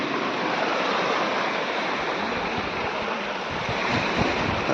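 Sea waves at Gopnath beach roar in a continuous broad wash of surf, loud and close with some wind noise, and nobody speaks.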